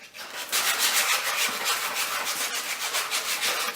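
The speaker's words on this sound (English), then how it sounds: "let's sand that and make it smooth" Sandpaper rubs up and down the back edge of a wooden electric guitar neck, a steady close scratchy rasp in quick repeated strokes with no talking.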